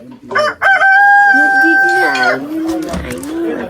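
A rooster crows in a village setting, one long loud call rising and holding steady before trailing off, close to the listener, with a voice talking briefly at the end.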